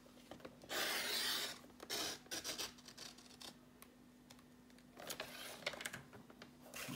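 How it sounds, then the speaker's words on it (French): A sliding paper trimmer is pushed along to cut card for a handmade pull-tab card, making quiet close scraping and rubbing swishes in several short strokes with pauses, over a faint steady hum. "Je pousse le massicot."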